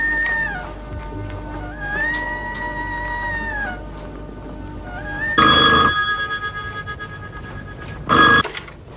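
A telephone rings in a household scene from a Pakistani drama, with warbling electronic ring tones repeating in bursts, and a couple of louder, harsher blasts sounding near the end.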